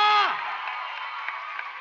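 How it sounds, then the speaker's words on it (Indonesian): An audience at a Budi Luhur documentary festival awards night applauds steadily, with a whistle-like tone dropping away at the start before even clapping fills the rest. "Teman-teman berikan tepuk tangan untuk Mas Naratama."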